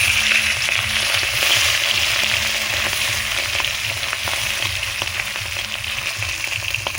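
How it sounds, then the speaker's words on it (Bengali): Hilsa fish pieces fry in hot oil in a pan, giving a steady, close, dense sizzle with scattered small pops and a faint low hum underneath, no voices. "বাকি মাছগুলো আছে এগুলো ভেজে নেব"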